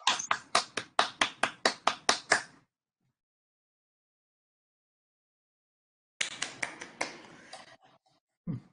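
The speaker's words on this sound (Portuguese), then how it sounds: "Muitos aplausos, né, gente?" A small audience at a seminar on discrimination and human rights claps in short rhythmic bursts, a run of distinct claps, then silence, then a brief second round of scattered clapping.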